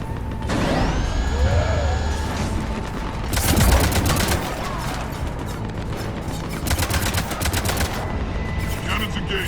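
Cannons fire rapidly in the Mass Effect 3 video game, loud bursts of automatic fire repeating in dense volleys with mechanical whirring and whining in between, close and continuous, with no talk.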